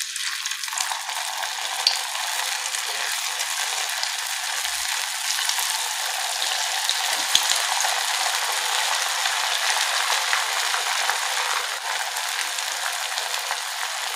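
Sabudana fries deep-frying in hot oil, a steady dense sizzle and crackle that holds loud and even throughout with no voices.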